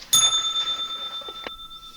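One bright bell strike rings out close by, its clear tone ringing on and slowly fading over two seconds, with a faint tap near the middle.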